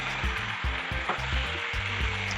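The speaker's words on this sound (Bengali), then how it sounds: "আবার একটু নাড়াচাড়া করে ভালো করে কষে নেব" Young goat mutton for a village-style curry is stir-fried in a pan, a loud close sizzle driven by quick, rhythmic scraping strokes repeating every fraction of a second.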